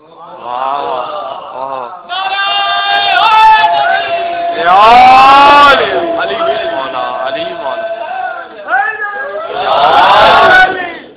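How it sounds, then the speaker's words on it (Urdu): A crowd at a religious majlis gathering in Latifabad, Hyderabad, Pakistan shouts slogans in loud unison bursts that alternate with a strong lead voice calling out. "نوجوانوں کے لیے تو میں کہتا ہوں کہ مجھے آپ سے نعرے چاہیے"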